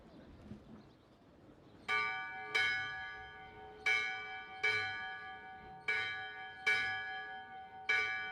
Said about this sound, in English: when you hear the last of the 8 bells